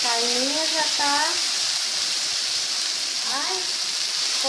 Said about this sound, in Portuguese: A carne já tá fritando